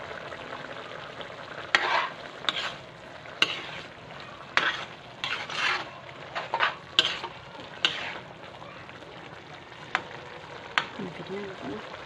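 A utensil stirs food in a pan with vinegar and salt added, scraping in repeated bursts over a low sizzle, with voices talking faintly in the background.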